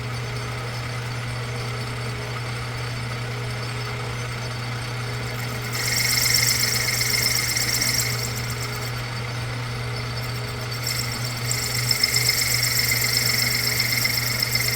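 A 1930s Craftsman Atlas lathe runs steadily with a constant motor hum while cutting a taper using the compound, the cut adding brighter, louder scraping passes partway through; no one talks.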